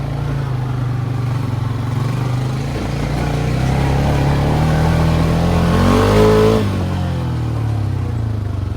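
A Honda 420M engine hums steadily, then rises in pitch as the throttle opens and falls back after a brief rev, loud and close with no talking.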